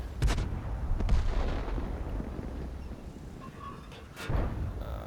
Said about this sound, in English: Got the smallest side shot, rear shot on the 50B, and I decided to take it, but I missed.